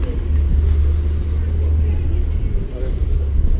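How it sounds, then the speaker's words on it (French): A car engine with a Porsche-like note, passing on a London street in Notting Hill near Portobello Road, rumbles low and steady throughout, with faint street noise around it. "J'entends le bruit d'une Porsche,"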